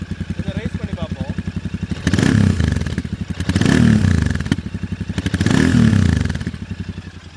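A Royal Enfield Interceptor 650 parallel-twin loping at a steady idle, then blipped three times in quick succession, each rev swelling loud and close before dropping back to the thumping idle.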